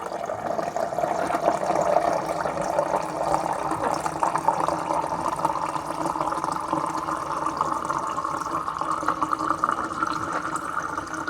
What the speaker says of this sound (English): Let's run some water through.